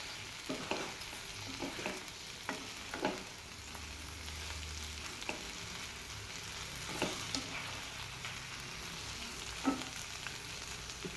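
Stuffed okra masala is stirred and mixed in a pan, a quiet low sizzle broken by repeated spatula scrapes and clinks at irregular intervals, with no voices.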